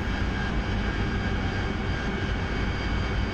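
Aircraft engine in the flight simulator DCS World easing back on throttle, a loud, steady droning roar that fills the whole moment with no voices over it.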